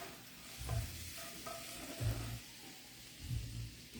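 Garlic browning in a hot pan, a soft steady sizzle with three louder stirring scrapes spaced about a second and a half apart, fairly quiet overall with no talking.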